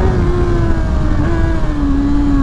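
A 2024 Honda CBR 600 RR inline-four sport bike re-accelerating on the road, its engine note steady and loud with a high tonal whine rising slightly, close up over wind rush.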